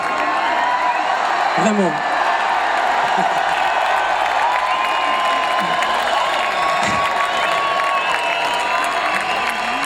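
A festival crowd at the Chien Plume festival claps and cheers in a steady, dense roar with scattered whoops, and a voice speaks briefly over the noise.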